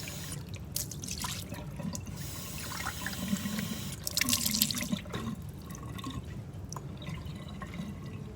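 Running water from a tap rinses out a container, a steady splashing, gurgling flow with drips, close and fairly quiet, with a brief surge midway.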